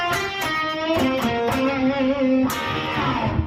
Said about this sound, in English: in the second verse there's a little guitar lick that comes in.